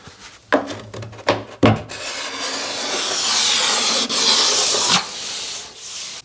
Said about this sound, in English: the scraper is great for just getting in